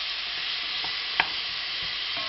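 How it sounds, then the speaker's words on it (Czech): Vegetables are stirred in heated sunflower oil in a pot while making cauliflower soup, with a steady sizzle throughout and a few soft scraping knocks from the spoon, one sharper clack midway. "Tak a trošičku to poválíme tom rozehřátým omastkou"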